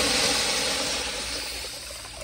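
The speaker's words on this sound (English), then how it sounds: "here's another flush from an interesting angle" A Kohler Bardon urinal flushes with a loud, steady rush of spraying water close by that gradually tapers off, with no voices.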